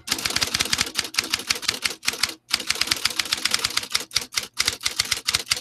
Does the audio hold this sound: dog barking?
no